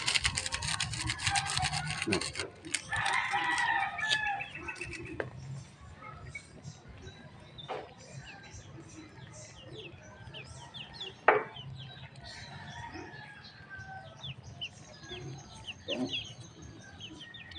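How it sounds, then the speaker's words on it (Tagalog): Chickens cluck and chirp around an outdoor home kitchen where a mung bean dish is being cooked, the calls scattered and moderately close amid background clatter, with a person talking at times. "Mga laga kong manok ko, malapit."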